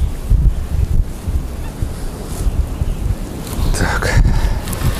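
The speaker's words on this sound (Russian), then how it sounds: "Ветер вообще жесткий поднялся." Strong wind buffets the microphone with a heavy, gusty low rumble during a fishing trip, running throughout, rising and falling in waves.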